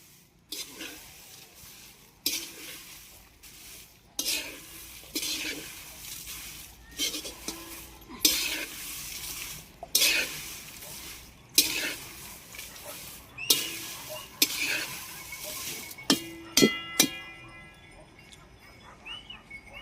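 Masala spices are dry-roasted in a pan with a series of brisk scraping stir strokes every couple of seconds, fairly close and moderately loud, separated by quieter gaps.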